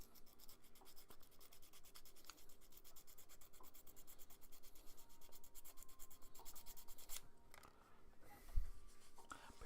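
Fine sanding stick rubbed against a small rescued miniature figure, a steady close scratchy rasping that runs continuously with quick repeated strokes, ending in a brief louder knock.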